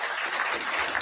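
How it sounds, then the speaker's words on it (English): Audience applause after the introduction of an imam at a religious gathering, a steady dense wash of clapping lasting about a second with no voices over it. "Let's give him a round of applause."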